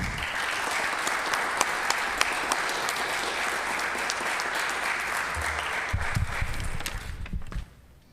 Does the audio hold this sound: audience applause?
yes